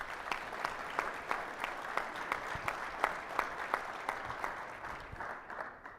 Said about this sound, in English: Please give Brother Cravens a round of applause.